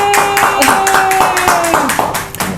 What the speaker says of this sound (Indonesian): Kasih tepuk tangan dulu buat Kak Jul